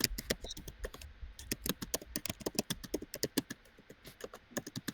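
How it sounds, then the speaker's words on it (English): Rapid typing on a computer keyboard, with irregular bursts of sharp key clicks and brief pauses, close and distinct with no voices. "Sorry, I can hear your keyboard."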